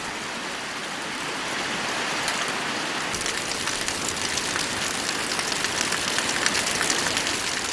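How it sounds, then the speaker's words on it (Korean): A sudden summer shower pours down on a mountain hermitage shrine hall, filling the space with dense hiss that thickens partway through, with scattered louder drops pattering close by. "갑작스런 빗소리 법당을 채웁니다"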